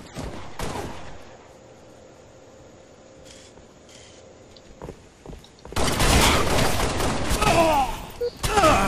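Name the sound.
gunfire in a video game SWAT match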